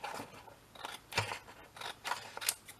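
Scissors cutting out a paper pocket for a shabby chic craft, a quick run of crisp snipping strokes, close and quiet, with no talking.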